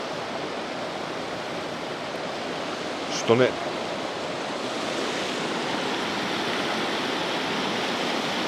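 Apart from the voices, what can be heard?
waterfall, Sour Milk Gill in the Lake District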